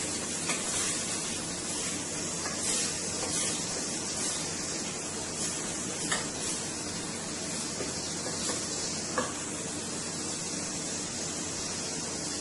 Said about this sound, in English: So I'm going to let my butter melt for a little there.